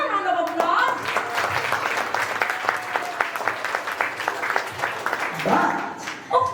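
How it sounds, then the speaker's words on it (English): Audience applause at a summer workshop recital and awarding ceremony, a steady burst of clapping that fills the clip, with a host's voice rising over it near the start and again toward the end. "he deserves another round of applause"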